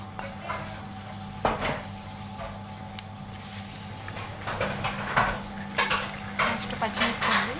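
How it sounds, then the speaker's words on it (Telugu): Mustard seeds and tempering spices tipped into a pan while making mango pulihora, with metal clinks and light crackling over a steady background hum, repeated close-up clattering strokes growing busier toward the end. "ఫస్ట్ మస్టర్డ్ సీడ్స్ వేసుకోవాలండి, తర్వాత పోపు దినుసులు వేసుకోవాలి"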